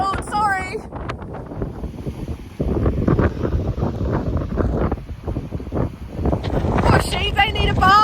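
Strong gusting wind buffets the microphone on a wet hilltop walk up the South Downs, roaring loud and continuous throughout, with a person briefly talking near the start and end.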